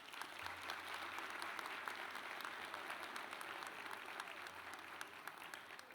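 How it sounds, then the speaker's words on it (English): Sustained audience applause at a university Founders' Day celebration, steady dense clapping filling the whole stretch at moderate volume with no talk over it. "Let us all applaud Miles Frost."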